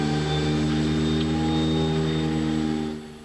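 Steady turbine whine of an Andover aircraft engine in flight during a relight, with a strong tonal drone and harmonic bands, loud and continuous before easing slightly at the end.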